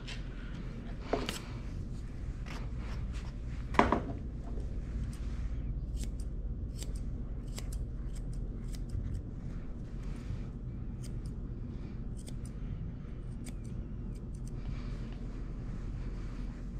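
Scissors snip through hair in a steady series of crisp, close cuts, spaced irregularly over a low, constant background hum, with no talking.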